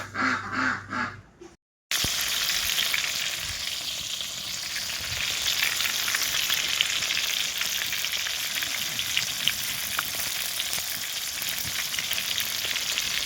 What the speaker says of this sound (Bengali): আগে আলুগুলো লাল লাল করে ভেজে নেব